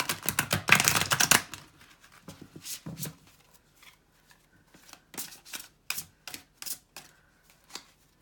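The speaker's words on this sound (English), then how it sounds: "This is like really stiff cardstock. Not the easiest to shuffle." Stiff cardstock tarot cards are riffled and shuffled in bursts: a loud rustling flurry at first, then a series of separate snapping riffles, close up with no voices.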